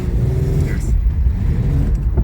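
Chevrolet Beretta with a 3.1 V6 engine idling smoothly, a steady low rumble close by under someone talking.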